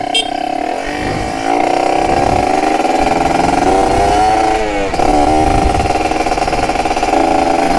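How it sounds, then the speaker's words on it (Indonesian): Kawasaki Ninja ZX150 Thai-market motorcycle with a 30 mm carburetor, its engine revving loudly and steadily at close range, with a brief dip then a sharp throttle blip near the end. "Ini suaranya sih udah gokil banget cuy."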